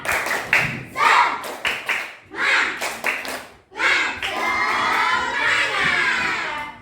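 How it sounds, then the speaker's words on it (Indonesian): Schoolchildren in a classroom clap in rhythmic bursts of quick claps, each group separated by short pauses, then break into sustained lively clapping and shouting, loud and close. "sebelum kalian menonton videonya, tepuk semangat dulu"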